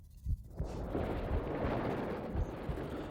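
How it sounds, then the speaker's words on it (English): Explosion effect from the visual novel Chaos;Head Noah: a few low thuds, then a broad roaring blast that swells and rumbles on fairly loudly for several seconds, with no voice. "Along with the ear-splitting sound of an explosion, I was slammed with an even greater impact than before"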